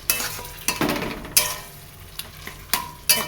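Boiled, peeled eggplant being stirred and mixed in a hot pan, with soft sizzling and repeated scraping strokes of a spatula at an irregular rhythm, close and moderately loud with no voices.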